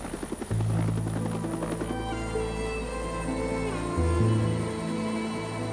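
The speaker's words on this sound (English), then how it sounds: "by helicopter." A helicopter carrying rescued dolphins flies steadily with a constant droning rotor and engine hum, loud and close throughout, with no voices.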